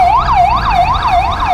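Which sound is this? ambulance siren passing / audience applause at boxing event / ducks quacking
ambulance siren passing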